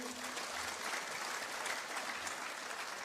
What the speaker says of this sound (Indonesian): Tepuk tangan dulu buat UCB.